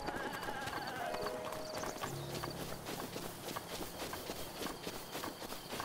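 Running goat hooves in the video game The Legend of Zelda: Breath of the Wild make a quick, even clip-clop over a busy, faint game soundscape with a brief animal call.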